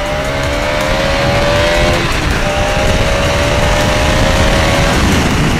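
Motorcycle accelerating in second gear on a ride, a loud continuous engine drone rising in pitch, then shifting and climbing again, close and alone under rushing wind.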